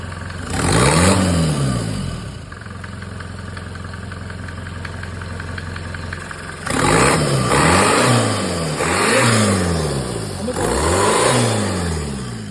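A Mercedes OM601 2.3 turbo diesel engine in a Vito 638 van idles roughly, then revs loudly several times in a row, each rise and fall clear and close.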